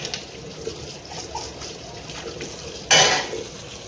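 Scrubbed dishes being rinsed under a running tap in a home kitchen, a steady soft wash of water with a louder, brief splash of flow near the end.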